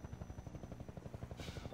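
Steady rapid rotor thumping from a combat helicopter in Half-Life 2, loud and regular and heard alone.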